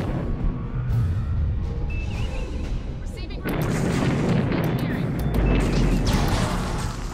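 Starship weapons fire in Star Trek Bridge Crew, with heavy booming blasts and rumbling impacts over a droning ambience, surging louder halfway through; voices talk faintly underneath.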